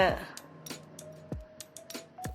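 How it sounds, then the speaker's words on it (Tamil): Pressure cooker lid being closed in a home kitchen while baking a vanilla sponge cake without an oven: a few sharp metallic clanks and taps spaced apart, fairly close, with a faint steady hum underneath. "குக்கரை மூடி வச்சிடுங்க."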